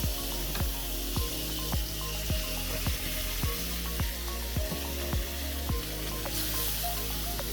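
Onions fry in butter in a pan, giving a steady close sizzle with a regular rhythm of small ticking pops and no talking.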